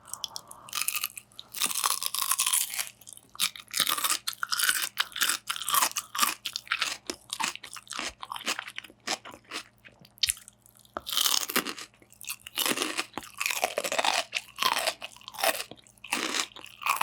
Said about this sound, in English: I take my kohlrabi, cabbage, turnip, and I'm even louder and crispier than they all together.